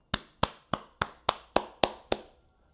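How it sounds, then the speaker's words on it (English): Eight sharp, evenly spaced hand claps, close and crisp, each one ringing briefly before the next in a steady beat, with no talk. "Let's clap it up for Rui Hachimura."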